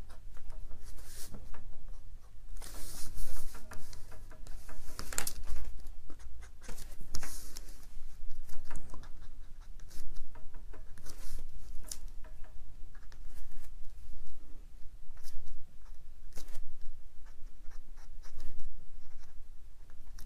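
An eraser rubs out pencil lines on a Darth Vader drawing, producing rapid scratchy back-and-forth strokes in uneven bursts, close and fairly loud with no talking.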